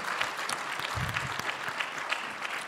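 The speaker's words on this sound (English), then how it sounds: "It's very nice of you to applaud that." A live-show audience at PAX East 2024 applauds with sustained, lively clapping that stays even throughout, with no speech on top.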